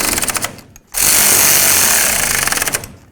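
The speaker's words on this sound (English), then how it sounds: "we're going to tighten up these clamps" Loud rattling hammer of an impact wrench tightening the tie rod adjuster sleeve clamps on a Ford F250. Two close bursts are split by a short pause, and the second burst is a long continuous run.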